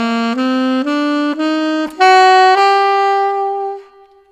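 An alto saxophone plays an ascending E harmonic minor scale, one sustained note after another in an even stepwise climb, with the top note held and fading out alone.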